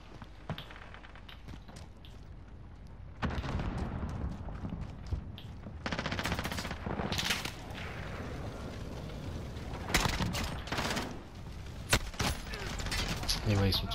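Gunfire erupts in a Call of Duty match: bursts of rapid automatic fire and sharp single shots crack from several directions, some close and loud, others more distant, with a voice speaking in between.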